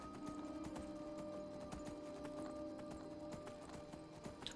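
Horse hooves clip-clopping steadily at a walk in Skyrim, a brisk even rhythm of close, moderately loud steps over a constant background hum.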